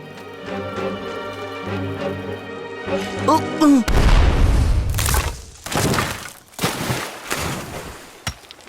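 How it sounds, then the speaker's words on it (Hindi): A loud, deep dynamite blast booms out suddenly after a quieter stretch, set off to dig deep into the ground, followed by a few more heavy thuds and rumbling debris. "धमाका होने वाला है।"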